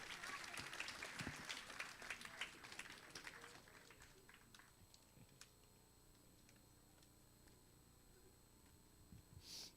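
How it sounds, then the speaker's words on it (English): Applause from parents fills a room at a school award ceremony, with many hands clapping steadily before thinning to scattered claps and quiet room noise. "Let's give one more round of applause, parents."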